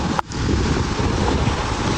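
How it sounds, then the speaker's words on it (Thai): Strong wind blowing over a mountain road at Khao San Aen in Tak, a dense, steady roaring rush that fills the whole clip, with one brief sharp bump near the start and no voices. "ลมแรงครับ"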